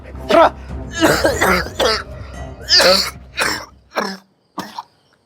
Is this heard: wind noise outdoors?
no